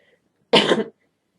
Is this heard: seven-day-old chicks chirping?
no